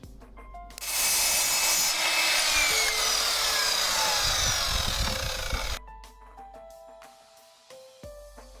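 Leftover cedar offcuts are sawn in one loud, continuous rasping burst lasting about five seconds, then it stops and a few quieter knocks and tones follow.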